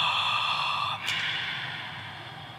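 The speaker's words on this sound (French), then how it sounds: "Expire par la bouche." A long, steady breath out through the mouth during a beginner ujjayi yoga breathing exercise, a close, airy whoosh that holds for a couple of seconds and gently fades, with no speech.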